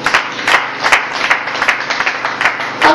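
Congregation applause at a church sermon, a dense crowd clapping steadily for about three seconds with louder irregular surges and no speech over it.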